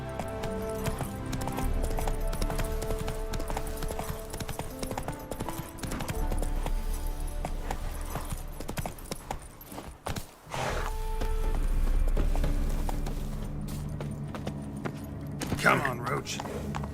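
Roach, the horse in The Witcher 3: Heart of Stone, clip-clops steadily at speed beneath a continuous game soundscape, with a brief dip midway, and short bursts of spoken game dialogue over the hoofbeats.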